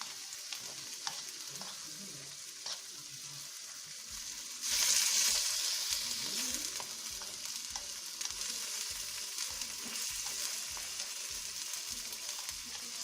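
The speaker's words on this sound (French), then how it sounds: "on va laisser mijoter un peu" Pork sauté in tomato sauce bubbles and sizzles in a pan, a soft close frying crackle that grows noticeably louder partway through, with no talking.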